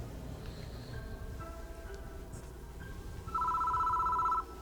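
A desk phone in the video game Death Mark 2 rings with a bright electronic trill, a sustained warbling tone that sounds loudly near the end over a quiet, low ambient drone.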